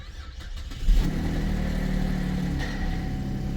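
A car engine at an auto auction catches and settles into a rough, uneven idle, close and steady, with a deep rumble and no voices.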